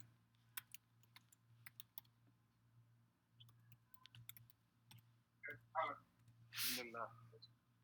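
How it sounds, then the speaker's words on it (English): Faint, sparse clicks from typing on a computer keyboard tap out irregularly at close range, followed by brief louder sounds near the end. "you should be able to see me typing"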